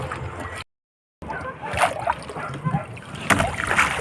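Waves slosh and splash against a small boat at sea near the shore at dusk, irregular watery bursts close by, with a brief gap of silence and people talking over the noise.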